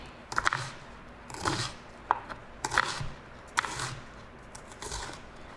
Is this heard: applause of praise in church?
no